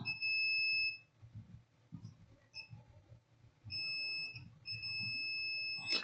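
Sustained electronic tones from a multimeter continuity test on an LED TV mainboard, a long beep followed by brief chirps and two more long beeps, clear against quiet bench noise.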